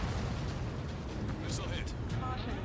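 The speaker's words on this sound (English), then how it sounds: "Missile hit." In the air-combat game Ace Combat 7, a missile strikes its target with a dull rumbling blast amid continuous in-game noise, while a radio voice talks over it.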